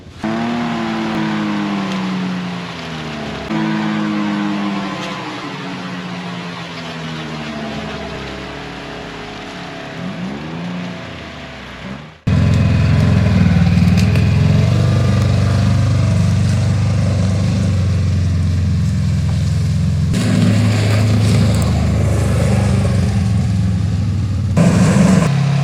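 A 2022 Polaris Ranger XP1000 Northstar side-by-side on the move, its engine humming and revving in rising and falling waves, then a loud, steady, rough roar of engine and wind noise close by, with no talking.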